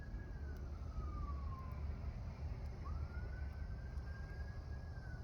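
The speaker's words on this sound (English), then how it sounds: "I am hearing a siren though, but there's no smoke." A distant emergency siren wails along a highway beside the woods, its tone slowly falling then rising again, faint over a steady low rumble of traffic.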